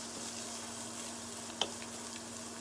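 Julienned carrots fry quietly in a pan with a soft, steady sizzle and one small sharp clink partway through, and nobody talks over it.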